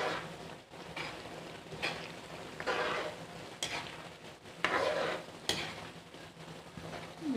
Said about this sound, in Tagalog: Ayan, ihalo natin ulit.